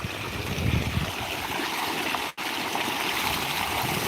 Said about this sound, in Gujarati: સરસ અત્યારે પાણી એકદમ મીઠું પાણી છે આ બોરિંગનું પાણી છે